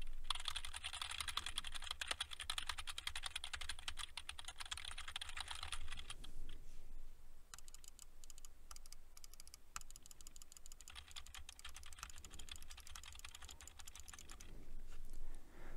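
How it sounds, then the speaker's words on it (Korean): Keyboard keys and mouse buttons pressed at a desk, picked up by an open-acoustic gaming headset microphone: rapid quiet clicks and taps, a dense typing burst first, then sparser scattered clicks, close and faint with no talk. "그러면 키보드와 마우스 버튼을 눌러보겠습니다"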